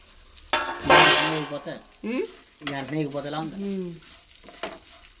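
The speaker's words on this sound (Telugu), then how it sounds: "ఇందులోకే సేమియా కూడా వేసేస్తున్నాం" Vermicelli for payasam drops into a hot pan with a short, bright burst of sizzling. A voice then talks over quieter frying and stirring.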